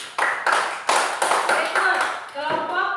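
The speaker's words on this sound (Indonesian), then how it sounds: "Tepuk tangan dulu untuk kelompok anjing." A classroom of pupils claps in applause for a student group, with several bursts of loud, close clapping and children's voices talking over it.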